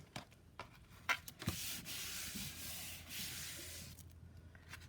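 A medium is rubbed by hand onto a mixed media surface: a few light taps, then a sustained dry scraping friction for several seconds, close and fairly quiet.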